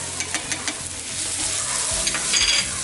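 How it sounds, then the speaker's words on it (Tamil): Spiced mutton keema masala sizzles and fries in a pan while being stirred, with a steady crackling hiss and intermittent scraping strokes of the spoon, close and fairly loud, no talking. "கொஞ்சம் பொறுமையாக கிண்டணும்"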